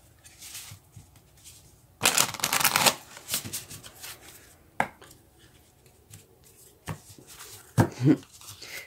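Moonology oracle cards being shuffled in bursts, with a long loud riffle followed by several short sharp shuffles and taps, close and clear over a quiet room.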